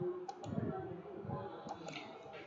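Computer keyboard keys pressed for a Ctrl Z shortcut during a Seagate Rosewood hard drive repair, a few quiet, sharp clicks spread across a soft room hiss.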